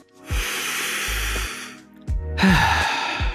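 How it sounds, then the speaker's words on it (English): Slow, deep guided breaths, a long drawn inhale followed by a long airy exhale, then another breath starting, close and clear with no talking. "take a nice long inhale and an exhale"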